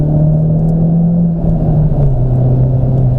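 Honda Civic engine pulling steadily on the Knockhill race track, a loud, close, constant drone with a low tone that gradually falls in pitch, no talk.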